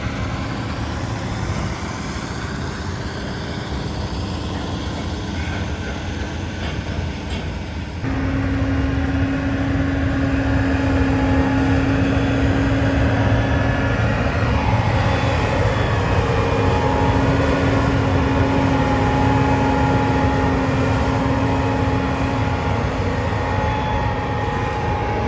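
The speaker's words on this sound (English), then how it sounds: "Combine's rolling out." Combine harvester rolling out on a farm, a loud, steady low engine drone with a constant hum that gets a little louder partway through, with no talk.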